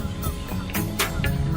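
Geese honk in a few short, rough calls spread across a moment, set against a steady background of other sound.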